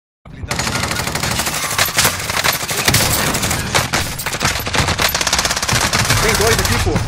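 Rapid automatic gunfire in the Call of Duty Warzone Resurgence battle royale, loud and continuous bursts of shots filling the whole stretch with little pause, with faint voices barely present underneath.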